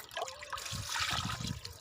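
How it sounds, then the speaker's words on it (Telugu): Water is poured onto home garden plants, including a brinjal plant, as a steady splashing trickle that builds toward the middle and continues close by for about two seconds with no talking. "కొంచెం నీళ్ళు ఇస్తాను."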